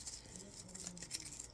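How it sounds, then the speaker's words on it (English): Quick close-up card shuffling of a Dragon Ball Super card game deck, with soft, continuous papery riffling and light flicks running steadily over a faint background hiss. "We'll give it 2 more shuffles here."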